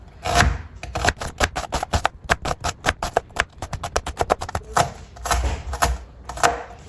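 Knife chopping onion into small pieces on a cutting board, a fast run of sharp close taps with short pauses between bursts, loud and alone.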